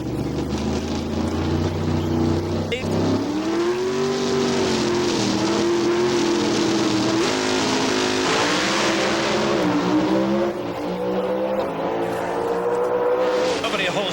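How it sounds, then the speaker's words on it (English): NHRA drag racing cars roar down the strip at the 1999 Phoenix Nationals, a loud sustained engine blast with rising pitch sweeps as they accelerate, while an announcer talks excitedly over the noise. "Oh, almost a photo finish, but it is Troy Coughlin, a 704 to an oh so close 705, 196 miles an hour for the winner"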